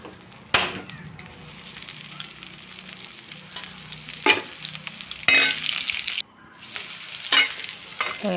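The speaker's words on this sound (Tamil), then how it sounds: "வெங்காயம் நல்லா வதங்கட்டும்" Onions sauté in a pan for an eggplant coconut milk curry, with a steady sizzle and frying hiss broken by several sharp stirring scrapes and clatters of a spoon, fairly close and with no talk.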